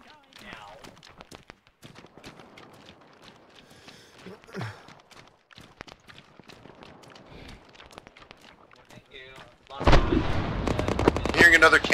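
In ArmA 3 combat, distant cannon and gunfire thud sporadically amid footsteps and small clatters, then a loud sustained burst of heavy firing erupts near the end.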